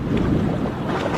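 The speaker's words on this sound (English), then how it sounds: "There's a lot of wind out in the" Steady southwest wind rushes and buffets over the Pacific Ocean at an anchorage off Pisagua, Chile, a constant blustery noise with no voices.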